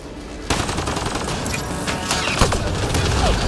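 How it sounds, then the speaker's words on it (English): Video game gunfire in Mass Effect Andromeda, with dense rapid automatic bursts and sharp impacts that roll on continuously at close range and build slightly louder toward the end. "Just keep firing, we can do this!"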